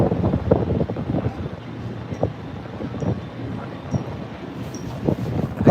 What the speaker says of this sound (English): it's really windy and I think it would just mess up the vocals